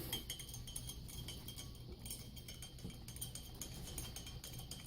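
A utensil stirs combat ration food in its container, making faint, close clinks and scrapes against a quiet background with no talking.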